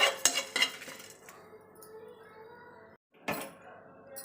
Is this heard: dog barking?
no